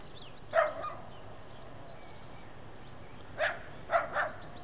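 A dog in front of a railway station barks in short bursts, one early and a cluster of three later, moderately distant over a steady outdoor background hum, heard from a train driver's cab.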